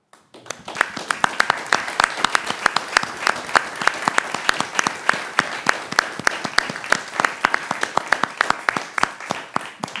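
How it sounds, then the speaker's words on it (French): Applause at a town council installation meeting for health workers and pharmacists: a sustained round of clapping, sharp individual claps standing out from a fairly sparse crowd, lasting about ten seconds after a brief quiet start. "Tous ces gens méritent vos applaudissements"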